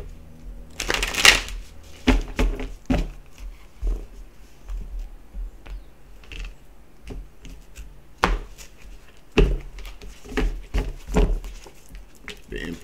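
Tarot cards being shuffled by hand, several quick riffling bursts close to the microphone spread across the span, with quieter rustling and handling noises between them.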